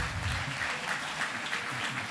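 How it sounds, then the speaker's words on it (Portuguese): Congregation clapping during a church service, a steady wash of many hands applauding together without pause for about two seconds, fairly loud and close. "Você pode dar uma salva de palmas para o Senhor?"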